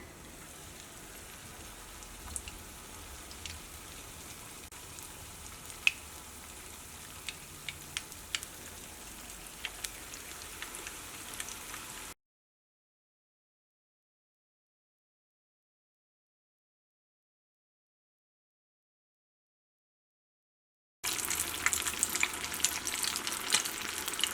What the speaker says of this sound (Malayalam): അപ്പോൾ ഇനി നമ്മൾ വറുത്തെടുക്കാൻ വേണ്ടിയിട്ട് പോകണം. അപ്പോൾ നമ്മുടെ ഓയിൽ നന്നായിട്ട് ചൂടായിട്ടുണ്ട്.